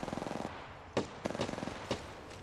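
Rapid automatic gunfire in the Apex Legends Mobile battle royale game, fast bursts of rattling shots with a few sharper single cracks between them, loud and close.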